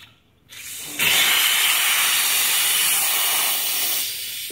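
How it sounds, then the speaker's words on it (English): Water splashed onto a hot steel air tank in a shop hisses loudly and steadily for several seconds after a brief lead-in, close and strong before tapering slightly. "I got the tank hot, so I cooled it off with some water"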